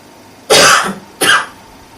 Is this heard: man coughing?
yes